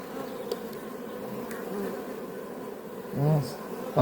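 Honeybees humming steadily around an open hive during an inspection, a continuous close buzz with a louder bee passing near the end, no talking.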